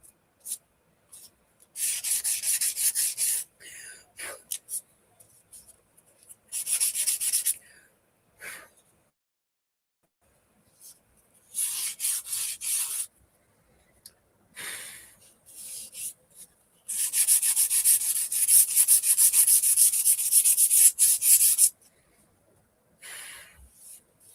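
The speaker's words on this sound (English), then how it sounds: "I'm just sanding around this to get back a little of the black as an outline." Close, scratchy sanding strokes on a painted craft piece come in several separate bursts with silent pauses between; the longest runs steadily near the end.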